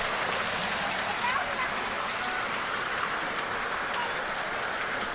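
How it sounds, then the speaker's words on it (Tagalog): Heavy, steady rain pours down in a dense continuous hiss, loud and close, drumming on surfaces without pause, during flooding. "Tuloy-tuloy pa rin yung ulan."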